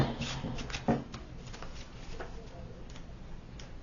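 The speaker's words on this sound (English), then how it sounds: "And so I'm going to shuffle a few times." Soft, quiet riffling and flicking of tarot cards being shuffled, a run of light papery taps with a brief louder flutter near the start.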